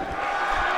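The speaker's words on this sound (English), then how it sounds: "this crowd are pumped" A pumped-up crowd at a New Extremes Wrestling brawl roars and cheers in a steady, dense wall of noise, loud and sustained with no clear voice breaking through.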